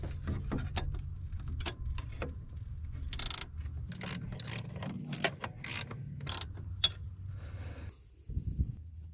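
A ratchet tightens a bolt on the power steering pump of a 2005 Honda Accord, with repeated bursts of close, rapid pawl clicking separated by brief pauses and metallic handling.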